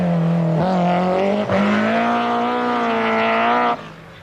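A BMW rally car at the 1990 British Open Rally Championship roars along a stage, its engine holding a strong, steady note with a couple of brief dips as it shifts, loud and close, before cutting off.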